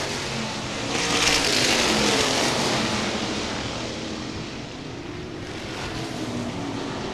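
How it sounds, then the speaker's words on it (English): Modified race cars roar around Baer Field Speedway during a feature event, a dense, loud engine drone that swells as the pack passes through the corners, then settles into a steady continuous roar. "Scott Coe in car number 28, your new race leader."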